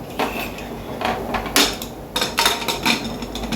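Metal clinks and clatters of a lid being put on a cooking pot holding paneer with peas in a home kitchen, a series of close, sharp taps and scrapes over a steady background hum.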